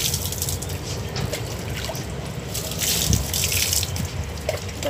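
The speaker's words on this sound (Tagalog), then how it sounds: "Banlaw dito sa pang-ilalim." Rinsing water in a bath washes over muddy items, a steady, close splashing and trickling wash with dripping that swells louder in the middle and never pauses.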